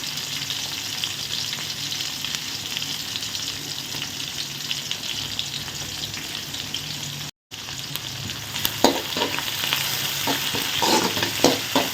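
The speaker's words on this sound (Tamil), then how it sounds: "வெங்காயத்தை நல்லா வதக்குங்க நல்லா வதங்கட்டும்" Onions sauté in hot oil with curry leaves for a drumstick and potato kara kuzhambu, a steady close sizzle that carries on throughout, with a brief dropout and then spoon scrapes and clicks toward the end, no voices.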